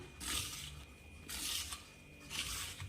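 Wheat flour dough for jaggery papdi is worked by hand with oil, giving three slow, close rubbing and squishing strokes, each about half a second long, with brief pauses between them and no talk.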